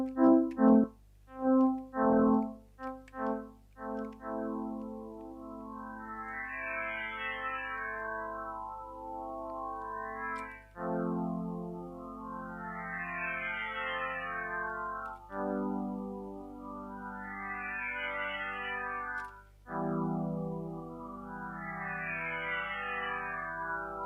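A Synthmaster One software synthesizer plays sustained notes through a high-pass filter, with repeated rising and falling sweeps over a steady buzzy drone, preceded by a few sharp stabs.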